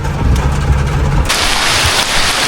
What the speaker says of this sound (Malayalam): പക്ഷെ ഇവിടെ ഫുള്ള് മഴ കേട്ടോ.